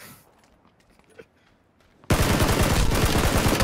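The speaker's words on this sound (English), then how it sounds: "Pull out the AK." AK rifle fire in a video game bursts in suddenly after a quiet stretch, a loud, rapid automatic volley of close shots that rattles on without pause to the end.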